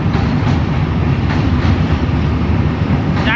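A train passes close by with a loud, steady rumble and a rhythmic clatter of wheels on rails that fills the whole stretch. There is no talking.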